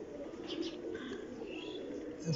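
Pigeons kept by a fancier, newly moulted birds, give soft low cooing, faint and steady with light chirps above, and no voices present.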